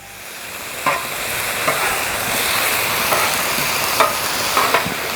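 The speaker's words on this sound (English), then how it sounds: "Kind of gonna flip my veggies a little bit." Vegetables sizzle steadily on a hot Blackstone griddle, with a few sharp spatula scrapes and flips breaking through the continuous loud frying, no voices.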